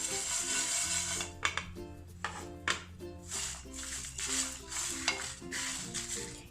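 Whole spices for homemade garam masala are dry-roasted in a pan in a home kitchen, with a spoon or spatula scraping and stirring in repeated bursts of clattering over a soft steady background.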